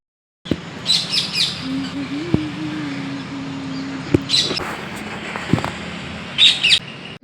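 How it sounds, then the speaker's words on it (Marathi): A flock of parrots gives shrill squawking calls in short clusters a few seconds apart over a steady low background hum. "बापरे किती पोपट आहेत"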